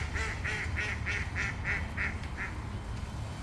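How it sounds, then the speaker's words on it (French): A duck quacks about eight times in a quick, regular series, close by in Parc Monceau, over a low background rumble. "Ah, nos amis les canards ont fini de manger."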